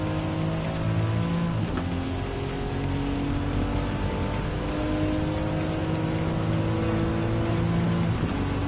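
An RE Amemiya FD3S RX-7 race car in Gran Turismo 7 drones steadily throughout, a continuous engine note with shifting harmonics and occasional tyre squeal, loud and close with no talking.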